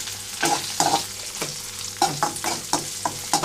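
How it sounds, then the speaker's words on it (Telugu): Tempering seeds, green chillies, onions and curry leaves fry in hot oil, a close sizzle broken by repeated spoon stirs and scrapes at an irregular rhythm. "ఇక్కడైతే తాలింపు గింజలు అంతా వేగిన తర్వాత పచ్చిమిరపకాయలు అలాగే ఉల్లిపాయలు కరివేపాకు వేసుకుంటున్నాను"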